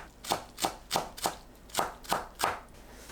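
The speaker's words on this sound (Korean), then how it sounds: "쪽파 2줄 작게 썰어주세요" Two green onions are sliced small with a knife on a cutting board, giving six even, crisp chops in a steady rhythm, close and fairly quiet with no talking.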